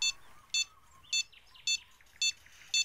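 A fishing bite alarm in the game Fishing Planet beeps in short, evenly spaced electronic pulses, six beeps in about three seconds, clear and alone.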